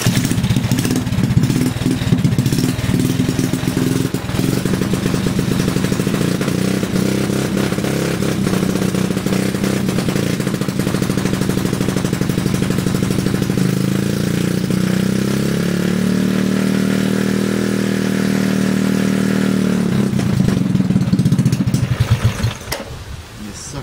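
A rat rod mini bike's small gas engine runs close and loud, its throttle worked so the revs rise and fall, swelling higher in the latter half before cutting out at the end. A faint voice is heard underneath.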